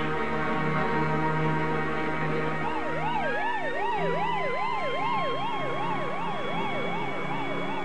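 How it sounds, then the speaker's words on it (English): An ambulance siren wails continuously, switching from a steady tone to a rapid rising and falling yelp as the vehicle rushes away, loud against a low engine hum. "As the ambulance rushed off to the hospital"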